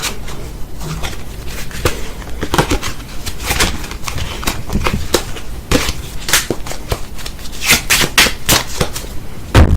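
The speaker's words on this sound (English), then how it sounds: "A very simple shuffle." Close, crisp riffling of a deck of playing cards being shuffled for a card trick, with rapid irregular snaps and flutters throughout.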